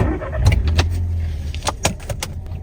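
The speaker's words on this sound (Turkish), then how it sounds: "Aracı çalıştıralım." Keys jangle close by, then a Volkswagen Scirocco's engine cranks and catches in a brief low rumble, with a few light clicks and knocks from inside the car and no talk.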